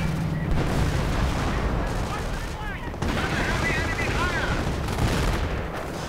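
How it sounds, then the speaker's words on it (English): Artillery and mortar fire in a World War II real-time strategy battle, with repeated distant booms and bursts of gunfire layered in a dense continuous din, while a commentator talks over it. "We are seeing a bit of artillery going in by the looks of it. There's some mortar rounds."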